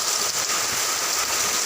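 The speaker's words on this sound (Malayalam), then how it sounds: "മഴ സമർത്ത് പെയ്യാണ് കേട്ടോ ഗായ്സ്" Heavy rain pours steadily, a dense, even hiss of drops drumming on surfaces close by, loud and unbroken with no voices over it.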